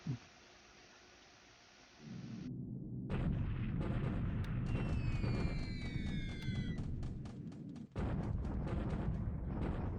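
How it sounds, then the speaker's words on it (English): Bombing explosions in the War in the Pacific video game: a sustained, loud roar of blasts and rumbling detonations with whistling streaks, briefly cut off near the end and then resuming. "now we're bombing, hopefully hitting some aircraft on the ground"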